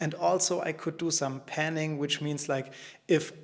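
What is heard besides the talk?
No everyday noise stands out behind the speech.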